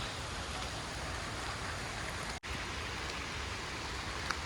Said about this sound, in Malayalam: വെള്ളച്ചാട്ടത്തിലൊക്കെ ആടി തിമിർത്ത് വരുമ്പോൾ ഈ ചെറിയ മഴയൊക്കെ എന്തില്ല